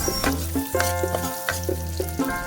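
Precooked bagnet, crispy pork belly, reheating in hot oil with garlic and onion, a loud close continuous sizzle with bursts of crackle and a few scraping stirs, no talking.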